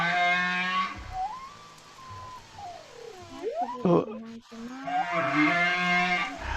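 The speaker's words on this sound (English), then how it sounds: "humpback whale." Humpback whale song made of long, low moaning tones and rising and falling sweeps, with a brief sharp burst in the middle and a voice speaking briefly over it.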